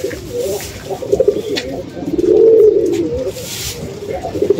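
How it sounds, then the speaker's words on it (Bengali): Several pigeons of different breeds coo close by, with soft repeated throaty rolls swelling into a louder, sustained coo midway, alongside faint background murmur and rustling. "বিভিন্ন প্রজাতির কবুতর"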